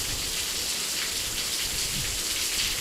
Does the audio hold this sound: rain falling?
yes